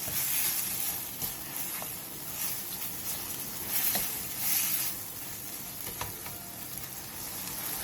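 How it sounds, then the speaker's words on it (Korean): Marinated meat stir-frying in an oiled pan over high heat, giving a soft steady sizzle with occasional spatula scrapes and brief louder hissing surges, fairly quiet overall. "팬에 기름을 두른 뒤 재워놓은 고기를 넣고 센 불에서 볶아주세요."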